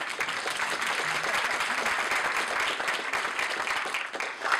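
An audience at a graphic novel prize event gives steady applause, a full, continuous patter of many hands that holds at an even level throughout.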